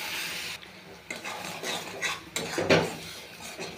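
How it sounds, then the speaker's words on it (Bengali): Spices such as onion-garlic paste, turmeric, chili, cumin and coriander powder being stirred with a little water in a pan, giving close scraping and metallic clinks of a utensil against the pan over a soft background hiss. "অল্প জল দিয়ে কষিয়ে নেব মশলা।"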